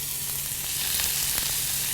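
Hanger steak sears in a hot pan, a steady broadband sizzle of frying meat that holds close and even across the whole moment with no talk.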